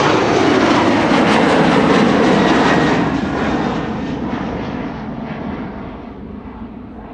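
A German Airways jet airliner passes at Amsterdam Schiphol, its engines roaring loudly and close at first, then fading steadily into the distance.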